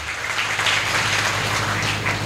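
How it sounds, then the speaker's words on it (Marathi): Audience applause at a public speech event honouring Modi, a steady wash of many hands clapping at moderate distance, continuous for a couple of seconds with a low hum underneath. "झालं, टाळ्या वाजल्या."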